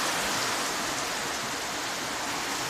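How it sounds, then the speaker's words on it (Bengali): Heavy rain pours down steadily outside a house in Bangladesh, a dense, unbroken wash of drops that stays loud and constant throughout, with no voices. "খুব জোরে সরে বৃষ্টি নামছে"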